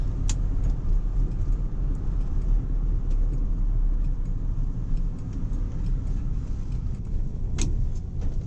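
A 1959 Oldsmobile Dynamic 88 4-door flat top on the road, its engine giving a steady loud rumble of cabin and road noise with a few faint clicks and rattles, no voices.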